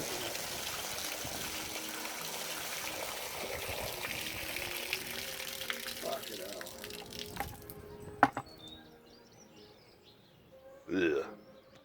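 Water flushes through a cooling hose on a 1994 Range Rover, carrying sediment: a steady rushing wash that thins and fades, followed by a few sharp knocks and a brief splash near the end.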